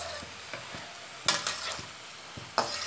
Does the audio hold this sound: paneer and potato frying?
yes